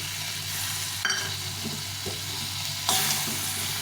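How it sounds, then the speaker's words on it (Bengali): Vegetables and spices sautéing in a pan for a thin fish curry, a steady close sizzle broken by a few scraping stirs and louder bursts of frying, with no voices. "মশলা থাকলে সবজিটা কষিয়ে নিই"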